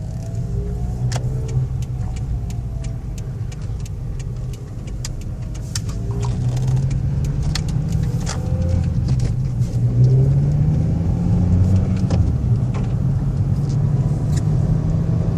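A car drives steadily with a low engine rumble and road noise, the hum rising slightly partway through, with occasional small rattles and clicks from an exhaust that hits the rear axle over bumps.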